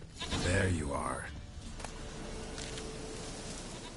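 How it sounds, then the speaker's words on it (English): A goat bleats once in a PS4 game, a loud, wavering cry lasting about a second at the start. A quieter ambient hum with faint insect-like buzzing follows. "Here, goat."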